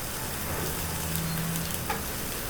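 Onions and garlic fry in a pan for a rice pilaf, giving a steady, close, even sizzle with faint clinks and no talking.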